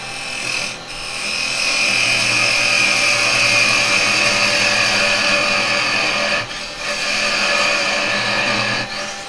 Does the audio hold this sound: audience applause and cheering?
no